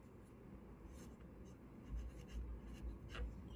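Pen scratching across paper while an enemy's name is written by hand, a steady soft scribbling with a few firmer strokes near the end, close and alone.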